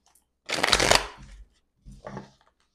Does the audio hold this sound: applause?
no